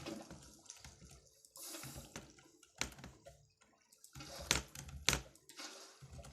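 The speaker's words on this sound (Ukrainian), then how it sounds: "Розливаємо воду." Water is poured in several uneven bursts, splashing and trickling at close range with short pauses in between and a few sharper splashes near the end.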